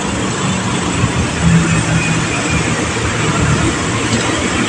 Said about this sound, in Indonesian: Ini dia kereta api Argo Cirebon.